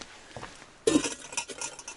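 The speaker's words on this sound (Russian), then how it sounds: "Заодно чайник занесу. Чайник." A metal kettle is carried into a dugout and set down, giving a sudden clattering clink of metal followed by a few lighter knocks and rattles, close by with no talk.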